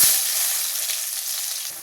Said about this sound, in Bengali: পেঁয়াজটা জাস্ট এরকম ভাজা ভাজা হলেই হবে।